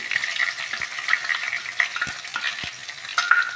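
Fenugreek and crushed curry leaves frying in oil for a bitter gourd pickle, a close crackling sizzle broken by spoon scrapes as the mix is stirred.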